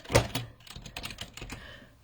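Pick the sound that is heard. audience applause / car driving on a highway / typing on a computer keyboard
typing on a computer keyboard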